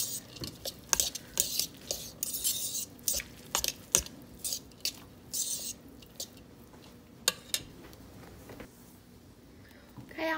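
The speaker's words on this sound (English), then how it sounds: "I just want to mix this up a little bit." Shredded cheese, salt and other pimento cheese ingredients being stirred in a bowl, heard as irregular close scrapes, taps and soft squishing bursts that come and go.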